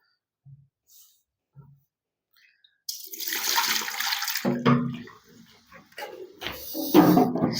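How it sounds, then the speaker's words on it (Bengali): Leftover water is tipped out of a removed part of a Pureit water purifier, a splashing pour lasting several seconds after some quiet handling clicks, fairly close and with no talk. "এই পার্টটা যেহেতু আমাদের কিছু জল আছে, এটা আমরা ফেলে দেব।"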